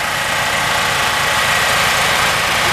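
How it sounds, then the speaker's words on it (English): Two 420 cc generators running in tandem on a gasifier make a loud, steady, close engine drone with a constant mechanical hum and no pauses. "here I'm running two generators, so I'm running a total of 840 cc's together"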